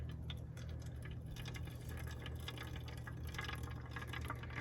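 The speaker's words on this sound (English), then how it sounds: "I'm going to pour the rest of the water in." Hot water, roughly 202 to 207 degrees Fahrenheit, poured steadily to brew coffee at an RV resort campsite. It makes a continuous, even wash of liquid noise over a low hum, with no talking.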